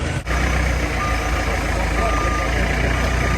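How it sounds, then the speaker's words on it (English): Reversing beeps from a forklift truck unloading a yacht mast off a lorry, steady repeated tones over a loud idling engine rumble, close by and continuous. "they're just unloading it with the forklift truck"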